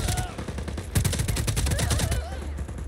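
Rapid bursts of video game gunfire from Just Cause 4 played on an Xbox Series S, dense repeated shots crackling loudly and continuously throughout with no talking.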